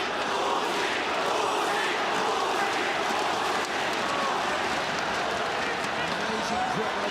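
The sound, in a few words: arena crowd cheering at ONE fight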